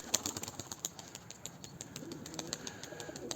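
A tumbler pigeon whose wing had been taped for about two months flaps its wings, producing faint, quick fluttering beats close by in a quiet room, with a few soft bird sounds.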